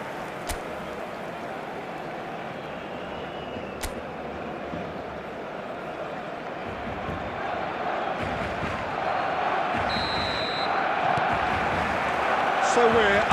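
A stadium crowd in the eFootball 2026 video game gives a steady dense roar that swells gradually toward the end, under a match commentator's voice.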